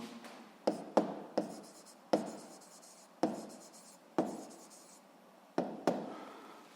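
Chalk strokes on a classroom board, a series of sharp taps and scraping strokes at an uneven pace, close and fairly loud, with no talking over them.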